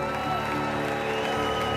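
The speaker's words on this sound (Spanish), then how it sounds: "Que no afloje ese aplauso para recibir a la gente que nos mira en todo el planeta." Dense applause from a large live audience, a continuous loud wash of clapping with crowd noise and no gaps.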